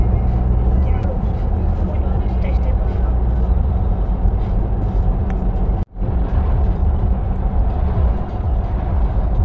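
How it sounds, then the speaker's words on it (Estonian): Heavy road traffic on a highway in Poland, mostly trucks with some cars, rolling past as a loud, constant rumble and tyre roar that briefly dips once midway. "Iga 5 rekka kohta on üks sõiduauto."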